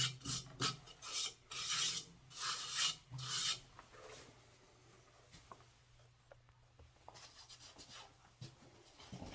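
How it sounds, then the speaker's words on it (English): Rough rasping strokes of sandpaper on a turned natural-edge wooden bowl, several loud bursts early on, then quieter scattered scraping and light handling noises. "time for some sanding."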